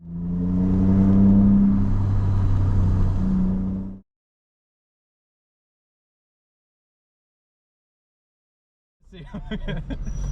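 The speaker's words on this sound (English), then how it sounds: "This little clip is the last footage that I have of my car actually running" A Volkswagen MK4 GTI engine runs at a steady, loud idle for a few seconds and then cuts off, followed by silence before a noisy rumble returns.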